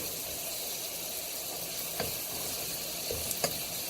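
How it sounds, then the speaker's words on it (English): Bacon sizzles and crackles steadily in a pan, with a few soft clicks and taps over the constant frying hiss. "See how it just kind of cooks apart into little strips? We're just going to cook that till it's nice and crispy."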